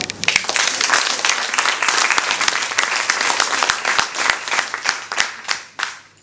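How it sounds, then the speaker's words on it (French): Audience applause at a French talk on women and AI: dense, steady clapping from a crowd, with a few sharp nearby claps standing out, holding for several seconds before tapering off at the end. "Donc je vous demanderai de vous applaudir."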